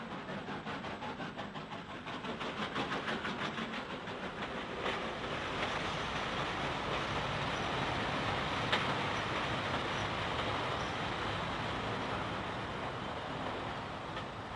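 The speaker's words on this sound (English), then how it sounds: "A down goods in charge of a U1 Class 260, number 1904, heads towards the Junction" A U1 Class 2-6-0 steam locomotive, number 1904, hauling a down goods train towards a junction, heard as a steady rolling rumble with a rhythmic clatter of wagons over the rails, continuous and moderately distant.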